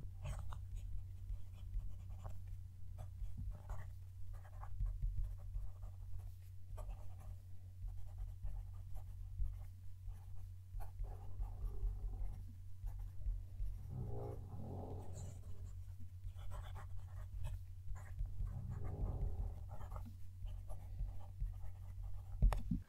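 A fountain pen nib writing a sentence on paper, a faint, continuous close-up scratching with small strokes and pauses over a low steady hum.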